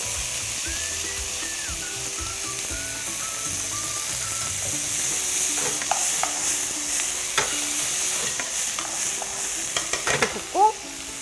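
Ingredients for beef noodle soup are stir-fried in a pan with steady sizzling. Scraping and tapping of a utensil against the pan grows busier toward the end, and no one talks.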